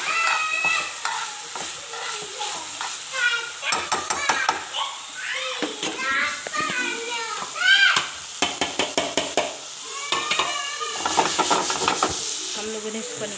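Onions browning and chicken frying in a pan give a steady sizzle, while a utensil stirs and scrapes the pan in repeated close strokes, with a voice talking now and then.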